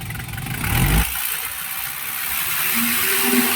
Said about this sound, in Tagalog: Kita nyo naman, ganda ng tunog ng engine.